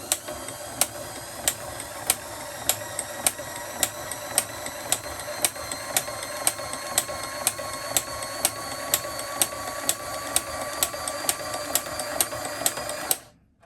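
A Hague Linker knitting machine links off stitches with a steady mechanical whir, punctuated by regular sharp clicks about every half second, close and even throughout until it stops abruptly.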